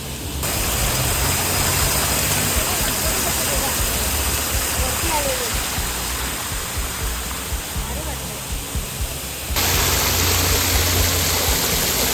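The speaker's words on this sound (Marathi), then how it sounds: "पाणी किती वरून मस्त येत आहे खाली पडते ना ते बघायला छान वाटतं इकडे" A monsoon waterfall near Rajapur roars as a dense, steady rush of falling water, loud and close. The noise drops slightly in level before returning for the last few seconds.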